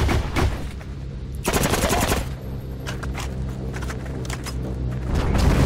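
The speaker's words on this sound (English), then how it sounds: "my choice would be the PPS-43 because of just how it's a bit more of a all-round machine gun" A PPS-43 submachine gun in the game Heroes & Generals fires in rapid automatic bursts, crisp and close, with short pauses between strings of rounds.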